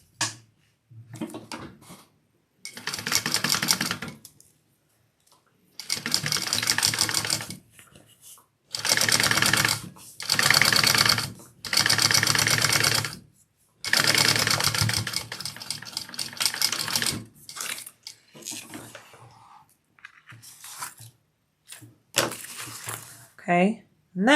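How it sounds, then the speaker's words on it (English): Heavy-duty sewing machine top-stitching along a zipper tape on a fabric wallet, running in several long loud bursts of steady stitching separated by pauses, with a voice talking in the gaps. "now we want to top stitch down the entire thing"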